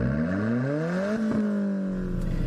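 An Alfa Romeo 4C's four-cylinder engine, 240 horsepower with a twin-clutch six-speed gearbox, revs up loudly and steadily, its pitch climbing, then dips briefly and settles into a sustained drone.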